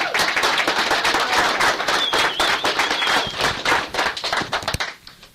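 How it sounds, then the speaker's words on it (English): Audience applause for a presenter at an amateur astronomy night, dense clapping from a nearby crowd that stays steady, then thins to a few scattered claps and fades at the end. "Rob a big round of applause."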